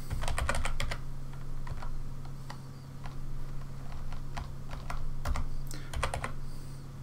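Rapid bursts of clicking keystrokes on a computer keyboard as a spreadsheet formula is entered, close and clear over a steady low electrical hum, with short pauses between clusters of keys.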